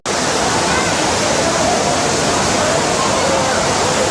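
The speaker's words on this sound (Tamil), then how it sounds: "அருவியை பாருங்கள் மேலேருந்து" The main waterfall at Courtallam pours down in a loud, dense, unbroken roar, close and enveloping, with a faint murmur of crowd voices buried in the rush.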